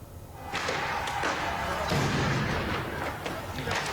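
Follow-up explosions come from a house burning after an airstrike. Several heavy, muffled thuds and bangs, a few seconds apart, sound over continuous rumbling background noise.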